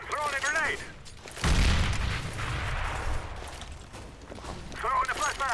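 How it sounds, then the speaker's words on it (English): A grenade blast and gunfire in Counter-Strike: a heavy boom lands mid-clip after a stretch of game sound, rumbling under continuous action, with a player talking at the start and end. "I'm throwing a grenade!"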